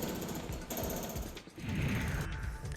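A building is demolished by municipal workers using a Poclain excavator, a JCB and hammers, producing steady mechanical rattling and pounding at a moderate distance with no talk.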